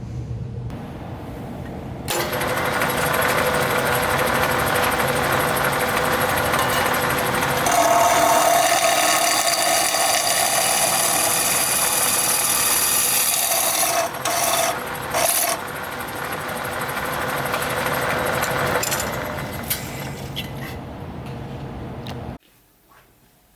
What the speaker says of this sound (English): So now it's on to drilling the holes.